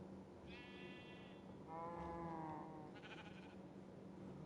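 Sheep in the game Minecraft bleat on a farm: three distinct harmonic bleats in a row, fairly close and clear over steady low background hum, with no talking.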